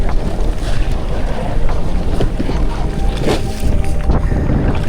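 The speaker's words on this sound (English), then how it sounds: "Wow, very windy today." Strong wind roars steadily across the microphone on a fishing kayak, loud and buffeting, with water and boat noises underneath.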